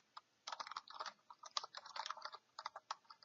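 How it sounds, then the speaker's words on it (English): Rapid, fairly quiet clicking of fingers typing code on a computer keyboard, irregular bursts of keystrokes with short pauses, close and alone. "I'm going to type on error, resume next"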